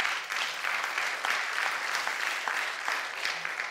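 A church congregation claps together during a sermon, a dense sustained round of applause rising and easing over a few seconds.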